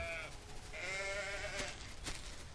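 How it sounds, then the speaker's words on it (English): Sheep bleat in the video game Solarpunk, wavering calls overlapping one another at moderate loudness over a steady ambient game background. "But we do have 3 sheep."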